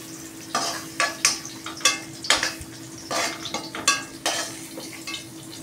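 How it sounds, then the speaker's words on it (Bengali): Fried jackfruit is scooped out of a pan: bursts of clattering and scraping from a utensil on metal come in uneven strokes over a light background sizzle. "সুন্দর করে আমি এঁচোড়টাকে ভেজে নিয়েছি। এই এঁচোড়টাকে তুলছি দেখো।"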